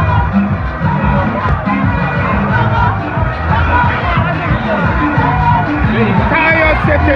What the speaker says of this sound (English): It's just a matter of time to pass through this huge crowd here.